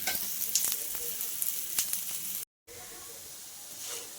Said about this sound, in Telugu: ఇప్పుడు నేను దీన్ని నూనెతో కాలుస్తున్నాను కదండి